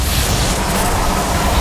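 A loud, dense explosion blast in a video game raid fight, a brief roaring rumble that fills the moment with no clear voice over it.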